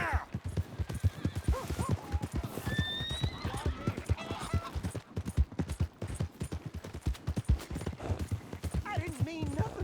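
In the western video game Red Dead Redemption, a horse's hooves clatter in a rapid, continuous gallop while the horse whinnies, with voices speaking over the hoofbeats.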